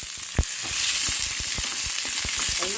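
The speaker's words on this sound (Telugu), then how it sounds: "ఆయిల్లో లైట్గా ఫ్రై చేసుకున్నాం" Peanuts frying lightly in oil for chutney, a steady close sizzle with scattered crackles and pops from the pan, no voices over it.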